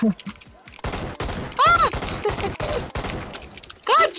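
Rapid bursts of gunfire in the Sabotaj shooter video game, several sharp volleys close together, with someone talking excitedly over the shots.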